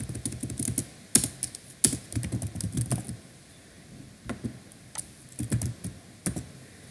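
Steady typing on a computer keyboard while composing an email: close, loud clicks in quick bursts with brief pauses, continuing alone for several seconds.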